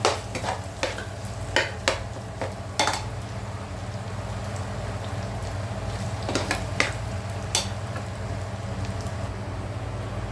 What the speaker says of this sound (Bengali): এখন চাল এবং অন্যান্য উপকরণগুলো এভাবে একসাথে মিশিয়ে 5 মিনিট ভেজে নেব।